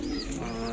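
Pigeons coo in a loft housing racing stock birds, a low steady murmur of several birds filling the space at close range, with no talk.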